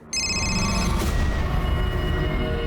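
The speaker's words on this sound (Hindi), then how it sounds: "मैंने ताई के बारे में जानने के लिए अजय मोरजकर को कई बार फ़ोन किए" A telephone rings loudly and steadily, a sustained electronic bell tone starting abruptly and continuing throughout, alone with no talk.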